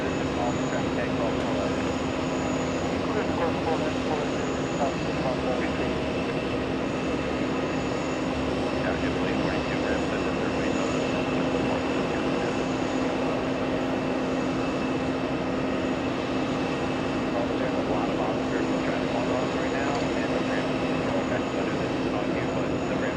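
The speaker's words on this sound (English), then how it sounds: "That A320 going to Barbados." A JetBlue Airbus A320 departs JFK for Bridgetown, Barbados, producing a steady, sustained jet roar with a constant engine whine that holds at an even level throughout, and voices talk over it now and then.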